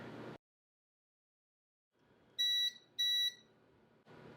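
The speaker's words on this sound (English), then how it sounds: "That is a nice loud buzzer" Two loud electronic buzzer beeps from a Creality LD-002R resin 3D printer sound in quick succession over a quiet mechanical hum, after a short pause.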